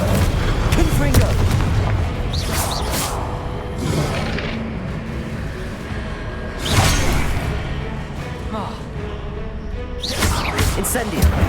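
Fiery explosive blasts from the Confringo spell in Hogwarts Legacy, several loud booming bursts with whooshes spread across busy game combat noise, a voice shouting spell names over it.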